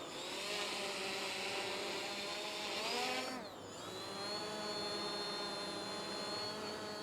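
A WeFone WF30 GPS beginner drone climbs into the air, a close, steady high-pitched rotor whine that dips and shifts in pitch partway through before settling again.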